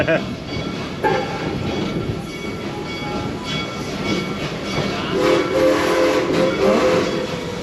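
Yellow train passing another train on the tracks, a steady rumble of rolling wheels and rail noise with a sustained horn tone joining toward the end.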